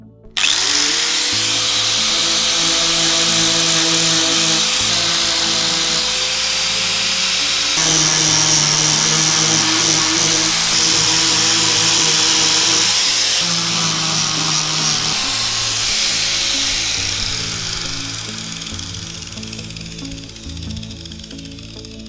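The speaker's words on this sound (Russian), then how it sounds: "Лишний пластик сейчас точу болгарочкой. Болгарку поставил лепестковый круг." Angle grinder fitted with a flap disc grinding excess plastic off a car bumper during a plastic-welding crack repair, a loud continuous whine with pitch shifts under load, easing off near the end.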